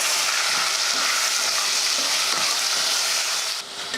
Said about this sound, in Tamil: ஒரு ரெண்டு மூணு நிமிஷத்துக்கு நல்லா இந்த மாதிரி வதக்கி விட்டுட்டு